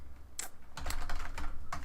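Fingers type a directory path on a computer keyboard in quick bursts of close clicks, a short pause giving way to a steadier run of keystrokes.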